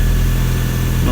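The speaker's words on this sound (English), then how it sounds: "I'm gonna let it idle." Turbocharged 1991 Toyota MR2 engine idling after maintenance, a loud, close, steady low rumble with an even pulsing rhythm.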